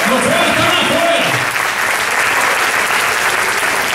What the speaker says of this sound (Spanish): Den un aplauso a todos los jóvenes que están aquí.